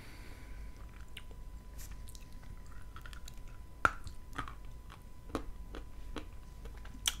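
Edible Kyrgyz Gulboto clay is bitten and chewed up close, giving a series of soft, sharp crunches and moist chewing clicks spread unevenly over several seconds against a quiet background.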